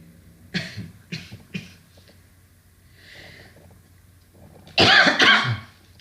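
Three short coughs in a row, a quiet pause with faint breathing, then a loud, harsh double cough up close.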